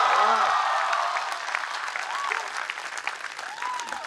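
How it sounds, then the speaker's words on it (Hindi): Audience at a Hindi poetry recital bursts into sustained applause with some cheering, loud and dense throughout, tapering slightly toward the end. "और तालियां दोगुनी करना अगली पंक्ति पर"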